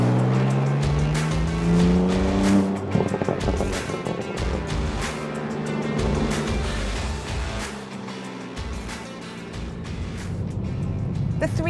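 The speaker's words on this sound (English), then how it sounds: "the boom of that 6-cylinder engine sort of thrums its way into the cabin" A 2025 BMW M2 G87 with a 480hp three-litre turbocharged six-cylinder engine drives along, a rising engine drone at first that settles into a steady rumbling cruise with road noise, heard from close by.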